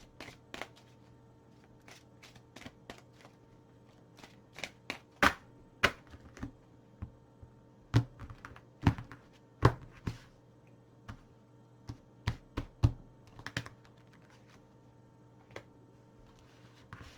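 Oracle de Gaïa cards shuffled and drawn from a deck, a run of crisp, close flicks and taps in irregular bursts over a faint steady background hum, no talking.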